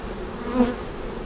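Honeybees from a caught swarm hum during a hive inspection, a steady close drone that swells briefly midway and then settles back, with no talk over it.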